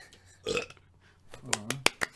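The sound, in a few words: burp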